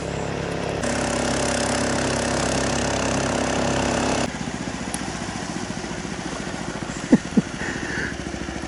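A weak, heavily loaded boat motor hums and putters steadily at a distance, its tone shifting partway through, with a couple of brief knocks near the end.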